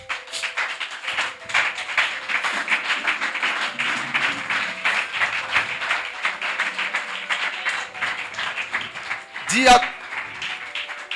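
A church congregation claps along during a sermon, with steady rhythmic hand claps under a preacher's voice and a short sharp burst near the end.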